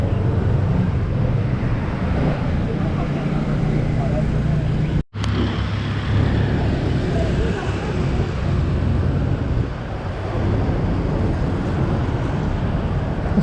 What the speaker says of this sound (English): This is almost like the evening traffic.